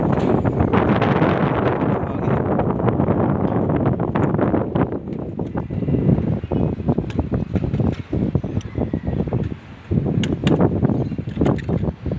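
Strong wind buffets the microphone in a loud continuous roar with gusty rumbling surges throughout.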